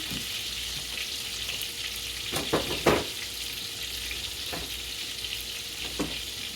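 Fish sizzles steadily as it fries in a pan, a constant close crackle broken by a few sharper pops and stirring clatters, with no talking.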